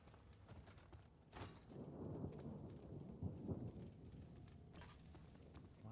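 Thunder rumbles through dark horror-game ambience in an Amnesia custom story, a low rolling crash swelling in the middle and fading out over soft rain-like hiss, quiet and distant with no speech.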